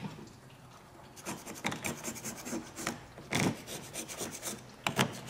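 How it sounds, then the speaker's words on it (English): A scraper rasps across a metal engine cooling-system housing in short, uneven strokes, quiet and close, with no talking. "One, you can use a scraper like this or a razor scraper."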